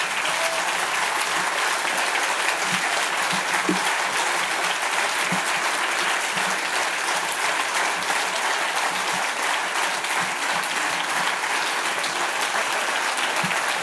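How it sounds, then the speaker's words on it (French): Steady audience applause fills the room at a 25th-anniversary celebration for a timber-framing company, sustained and dense throughout with no talk over it. "je veux vraiment qu'on les applaudisse."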